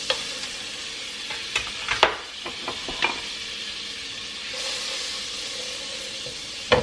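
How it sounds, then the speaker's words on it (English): Butter melting in a pan over medium heat, a soft steady sizzle running throughout with a few sharp clicks and scrapes of a utensil, close and fairly quiet, no talking. "We're going to melt 1 tablespoon of butter in about medium heat."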